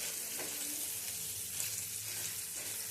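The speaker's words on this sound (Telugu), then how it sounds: "ఇలా పోపు పెట్టుకున్న తర్వాత ఇవన్నీ గోల్డ్ కలర్ వచ్చేంత వరకు వేయించుకోవాలి" Curry leaves and tempering spices sizzle and crackle in hot oil for a tomato chutney, a steady quiet frying hiss with small pops and no voices.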